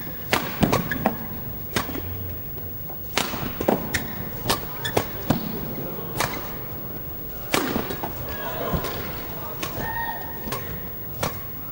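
Shuttlecock strikes crack sharply and repeatedly in a men's singles badminton rally between Lin Dan and Chen Hong, the hits landing at irregular intervals of about a second over a murmuring arena and an intermittent commentator voice.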